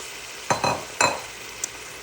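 Spinach and kale dropping into a pan of cooked garlic for a lentil daal, two or three close, soft rustling thuds with a brief sizzle, then a light clink of a utensil, and no talking.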